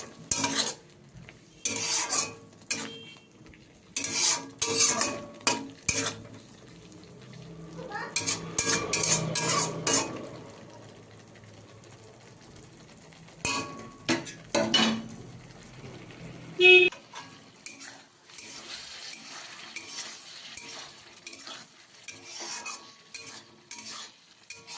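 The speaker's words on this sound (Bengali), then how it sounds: "এটি ভালো মতো নাড়াচাড়া করে আরও 2-3 মিনিট ফুটিয়ে নেব।" Potol posto, pointed gourd cooked with poppy seed paste, is stirred in a pan with a spoon, giving intermittent scraping and clattering strokes in bursts alongside a soft sizzle, close and moderately loud, with a quieter stretch midway.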